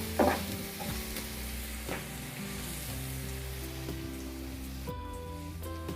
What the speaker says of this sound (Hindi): सब मसालों को अच्छे से मिक्स कर देंगे हम आलू के साथ